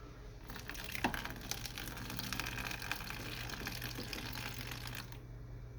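Hot water pours steadily into a cleaner mixture in a container, giving a continuous gushing splash for about five seconds that ends abruptly.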